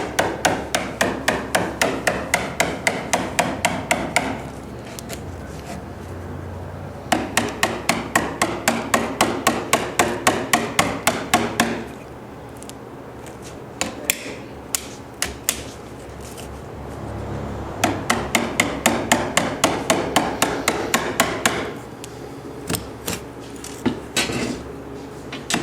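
A thin putty knife is hammered along a stainless car header in bursts of rapid, evenly spaced metallic taps, loud and close, with scattered single strikes between the runs.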